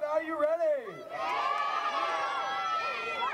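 A street fair crowd gathered for a race cheers and whoops together in a sustained noisy roar after a voice calls out over it.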